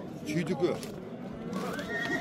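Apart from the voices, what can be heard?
horse neighing at a horse market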